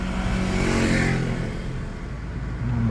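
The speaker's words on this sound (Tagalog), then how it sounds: "Motor na kasabay natin." Motorcycle engine running alongside a moving car on the Ilijan–Batangas City road, a loud steady engine drone close by with a brief swell, blended with road and cabin rumble.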